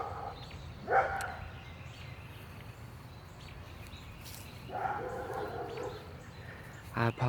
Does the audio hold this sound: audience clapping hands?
no